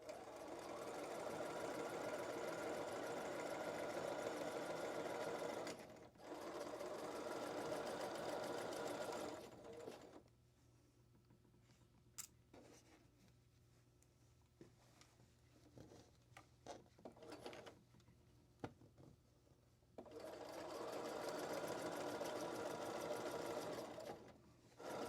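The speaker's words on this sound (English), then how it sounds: "I'm just sewing at a 1/2 inch" A sewing machine stitches princess seams at a half-inch allowance in two long steady whirring runs, soft and close, separated by a quiet stretch of fabric handling and small clicks.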